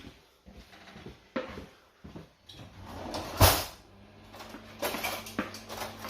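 A kitchen cupboard drawer is pulled open to grab forks, giving soft wooden slides, knocks and a sharp clatter of cutlery at close range, with quieter rustling around it.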